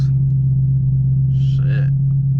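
A 6-speed Chevrolet Camaro ZL1 engine rumbles loudly while driving at night, a heavy, steady low drone inside the cabin, with brief faint voice sounds over it.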